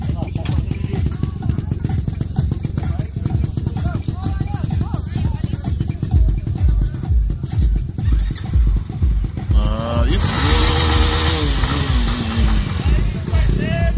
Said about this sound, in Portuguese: Vai lá, dá a partida e um roncão pra nós ver se é bom mesmo.